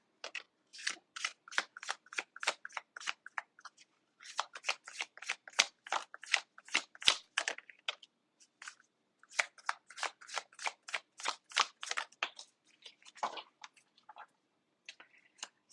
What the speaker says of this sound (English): Okay, cut the deck.